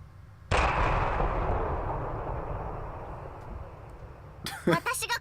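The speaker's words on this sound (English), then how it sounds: "Gunshot." A single loud gunshot in the video game Steins;Gate 0 cracks, its boom rolling off into a long fading rumble, followed by a voice starting to speak.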